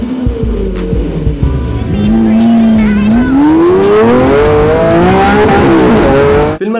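A sports car with a 6.5-litre V12 engine producing about 740 horsepower races at the Nürburgring, its loud engine note climbing steadily through the revs in one long pull before cutting off abruptly.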